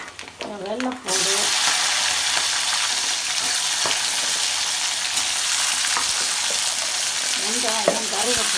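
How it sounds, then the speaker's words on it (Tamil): Dried turkey berries and a red chilli fry in hot oil for vathal kuzhambu, a loud, steady crackling sizzle that starts abruptly after a short stretch of speech, with a voice returning briefly near the end. "வத்தல் சுண்டை வத்தலையும் ஒரு மிளகாயும் போட்டாச்சு. அது கொஞ்சம் பொரியவும்"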